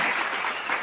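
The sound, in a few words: applause sound effect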